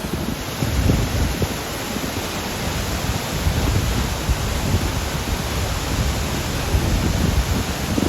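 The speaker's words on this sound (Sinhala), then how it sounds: "ඕන් ඇල්ල මුලටම ආවා අපි" Aberdeen Falls in Sri Lanka roars during heavy rain, a steady broadband rush of falling water that fills the whole stretch, loud and unbroken, with no voices.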